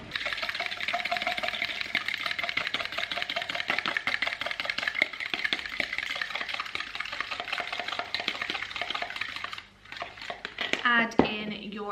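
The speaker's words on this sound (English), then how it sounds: "And then just give them a little old whisk." Eggs get whisked briskly in a bowl, a dense rapid clatter that runs steadily for several seconds, close by, before stopping, after which a voice speaks briefly.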